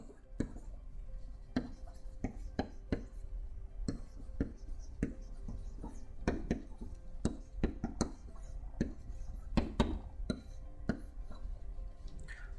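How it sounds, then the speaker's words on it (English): Pen tapping and scratching on an interactive whiteboard in irregular quick strokes, close but quiet, with no voices. "I can still pick up my pen to write a suggested change"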